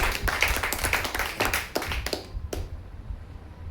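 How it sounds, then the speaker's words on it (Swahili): A church congregation at a Sunday service claps their hands in a brisk burst of overlapping claps that fades and stops near the end. "Pigia Yesu makofi mazuri."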